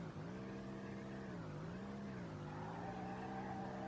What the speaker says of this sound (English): I swear to god, this car drifts so smoothly.